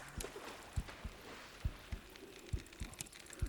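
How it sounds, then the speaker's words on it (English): A fish's heartbeat in the Bassmaster Fishing 2022 video game thumps as low, soft, slow pulses in a steady rhythm, about two or three beats a second, faint under a light background hiss. "There's a strong heartbeat."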